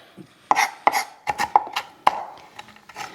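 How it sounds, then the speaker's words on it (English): A knife chops toasted pecans on a cutting board for scones, making a quick run of sharp, close knocks and crunches that come in an uneven rhythm with no voices. "I'm just chopping up these toasted pecans so I can add them to our dry ingredients"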